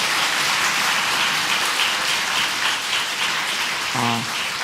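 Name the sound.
church congregation applauding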